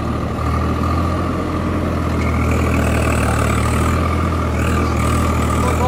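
A Swaraj 855 4x4 tractor running in two-wheel drive gives a steady, loud diesel engine drone with a low rumbling hum, close by and continuous throughout.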